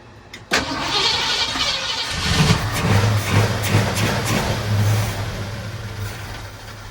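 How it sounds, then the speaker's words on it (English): A 1967 Ford Mustang engine, fed from an external fuel tank during a tune-up, cranks and fires abruptly, then runs steadily with a low rumbling idle and slight revving, loud and close, with no talking. "I ran an external fuel line to a tank just to act as a gas tank, just to get it fired up."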